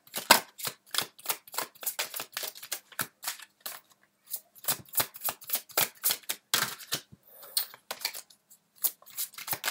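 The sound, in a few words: tarot cards being shuffled and drawn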